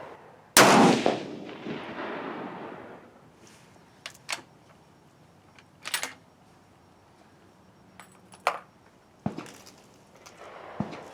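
Rifle shots fired during a range test of 7.5x55 Swiss (GP11) and .30-06 ammunition in a K31 rifle, one loud close crack followed by several fainter, sharper reports spaced a few seconds apart in otherwise quiet air.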